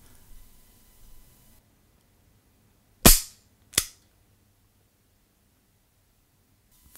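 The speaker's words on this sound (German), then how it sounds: "Noch ein Schuss." Two sharp gunshots from a revolver in a game of chance with a spinning cylinder, about 0.7 seconds apart, the first louder, ringing out loud and close after near silence.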